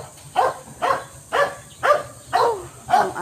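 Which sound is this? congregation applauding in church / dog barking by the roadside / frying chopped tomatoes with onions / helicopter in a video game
dog barking by the roadside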